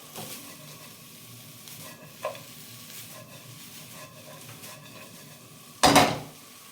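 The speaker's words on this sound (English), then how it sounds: "One final stir. We've got to have a wok toss." Egg fried rice with scallions and peppers sizzles in a wok while a utensil scrapes and taps now and then. A sudden loud toss and clatter comes near the end, close and without talk.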